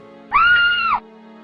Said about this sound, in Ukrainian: коли почув крики в гримерці